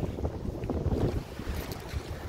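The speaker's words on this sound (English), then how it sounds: "Nice windy day." Steady wind buffets the microphone with low rumbling gusts, alongside broadband rushing noise, continuous throughout.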